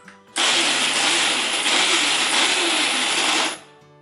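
A kitchen mixer grinder whirs loudly and steadily for about three seconds as it grinds onion with coconut for rice vada batter, starting and stopping abruptly.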